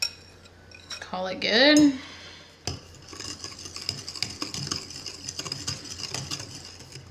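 A spoon scraping and clinking in a bowl as dry ingredients are stirred into sourdough discard lemon bread batter, a brief louder clatter early on, then steady close scraping strokes, with a short spoken remark.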